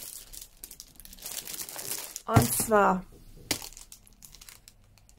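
A plastic bag from a Temu haul of storage boxes and canvas sets is torn open, giving a loud burst of crinkling and rustling for about a second, with someone speaking before and after.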